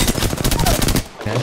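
Rapid automatic gunfire in the Apex Legends video game, a dense burst of loud close shots lasting about a second, then a brief pause and one more shot.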